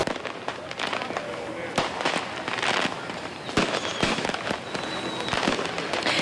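Fireworks and firecrackers burst during a street fireworks war, with sharp bangs and crackling pops arriving at irregular intervals amid a constant noisy din, while voices shout and talk underneath.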